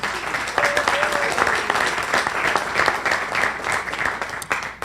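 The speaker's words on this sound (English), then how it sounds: "Please give him a round of applause." Audience applause for a state representative introduced at a Tiger Bay legislative update, a steady wash of many hands clapping at moderate level with a voice briefly over it.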